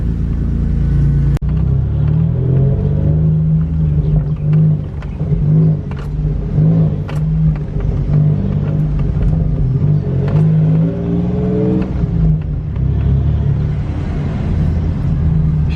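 A car engine revs on a test drive after driveshaft work, a steady, close rumble rising and falling with repeated throttle pushes and road noise inside the cabin, no talking.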